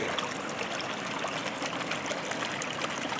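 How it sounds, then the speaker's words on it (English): Small backyard creek carrying runoff water down from higher ground, a steady, even trickle and babble with no pauses, close and moderately loud, no voices. "and then down this little creek."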